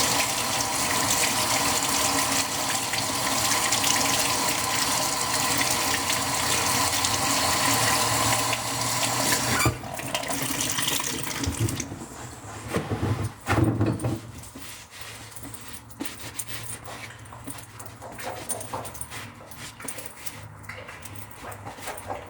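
A dog lapping water noisily and continuously from a bowl, a wet, busy splashing that stays loud for the first ten seconds, then turns patchier with scattered bursts and quieter stretches.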